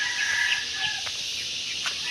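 A few chickens scratching at grass and soil, clucking and calling softly at close range, with short bursts over a faint steady background hiss.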